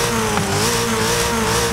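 Rear-engined car engine in Forza Horizon 5 holding a loud, steady high rev, a continuous buzzing drone with a slight wobble in pitch and no speech over it.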